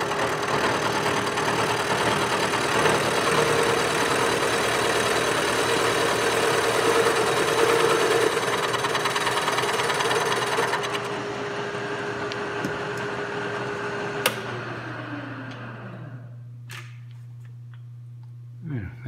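An end mill plunges straight down to cut a pocket in a wire wheel adapter it is locked into. A loud, steady machine roar runs for about eleven seconds, then eases to a humming spindle whine that winds down near the end.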